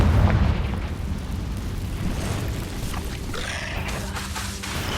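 Confringo fire-blast spell cast in Hogwarts Legacy, a heavy booming explosion opening loud and rolling into a sustained rumble with crackling debris, followed by a fainter whooshing burst near the end.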